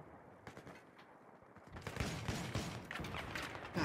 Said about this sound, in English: shotguns in this game are so fun. I'm shooting more than I should